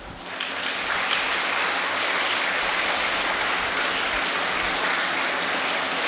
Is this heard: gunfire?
no